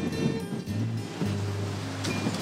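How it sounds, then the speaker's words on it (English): Strong wind gusts across an exposed mountain lookout in North Carolina, buffeting the microphone with a steady low roar and a droning hum underneath. "As you can see, it's really windy up here."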